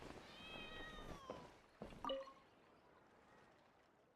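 A cat in the video game Genshin Impact meows a couple of times, with drawn-out, clear mewing calls heard close over a faint ambient background.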